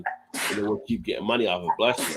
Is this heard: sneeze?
yes